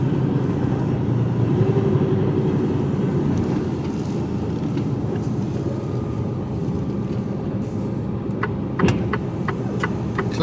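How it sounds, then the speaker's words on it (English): A Mercedes Actros HGV's trailer rattles and clanks while driving under a constant road rumble, with a few sharp metallic knocks bunched together near the end. "Clank of the trailer."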